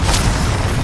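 Confringo fire blast spell from Hogwarts Legacy fighting: a single brief, loud booming burst at the start, then a thick roaring rumble that carries on to the end.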